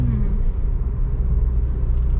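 Steady low rumble of road traffic in Chennai with passing vehicles, continuous and fairly loud, no clear talk over it.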